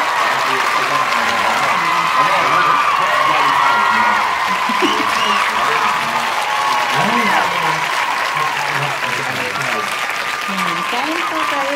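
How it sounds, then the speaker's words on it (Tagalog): Steady family applause and cheering at home fills the whole stretch, dense and even, with voices chattering and calling out underneath. "May palakpak mamaya"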